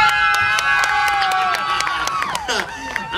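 Crowd cheering and shouting for a contestant at a surfboard contest beach party in Billings, Montana, loud and close, with whistles and rising, sliding voices along with some clapping.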